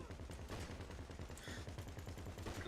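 Gunfire in the video game GTA V crackles steadily in rapid bursts, dense and continuous, fairly quiet and distant in the mix.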